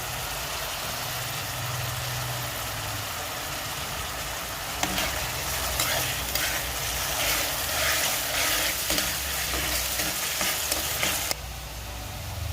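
Chopped tomato and green chilli fry in a pan for egg bhurji, producing a steady sizzle that grows busier midway with scraping stir sounds, close and continuous, cutting off near the end.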